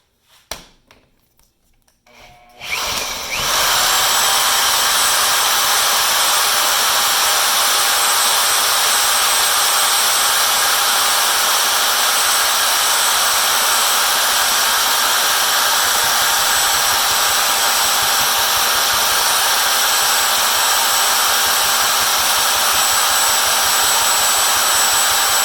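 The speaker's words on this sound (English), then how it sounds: "This, my friends, is a Milwaukee 90-degree right angle saw, and it is a beast. So I'm either going to drill this lock or break my arm." A Milwaukee 90-degree right-angle power drill starts up after a few quiet seconds and then whines loudly and continuously as it drills into a Paclock 95G padlock, a steady high-pitched grinding drone with no pauses.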